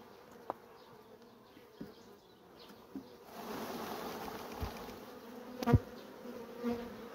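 Honeybees buzzing around an empty hive frame at an apiary, a soft drone that swells midway with occasional louder knocks and handling sounds nearby.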